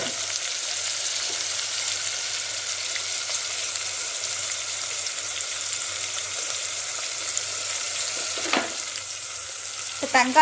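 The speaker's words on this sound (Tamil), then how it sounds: "போட்டு நல்லா வதக்கிடணும். நல்லா வதங்கணும்." Steady, close sizzling of ingredients for garlic kuzhambu sautéing in a hot pan, with brief clinks of a spoon stirring toward the end.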